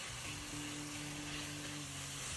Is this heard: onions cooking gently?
yes